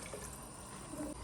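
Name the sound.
pouring mutton soup over soaked rice for biryani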